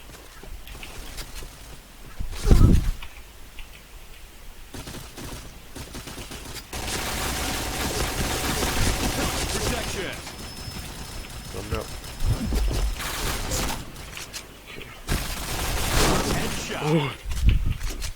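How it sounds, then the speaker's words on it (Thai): Video game gunfire: bursts of shots and impacts come in loud clusters amid a busy in-game soundscape, with a player talking excitedly over the action. "โดดยิงครับโดดยิงปืนนี้มันก็เอาเรื่องนะครับผม"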